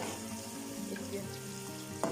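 Onions with ginger-garlic paste frying and being stirred for Lahori keema, a continuous close sizzle with scraping stirs and a sharper clink at the end.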